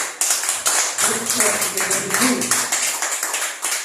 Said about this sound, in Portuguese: Suas palmas, louva o Senhor.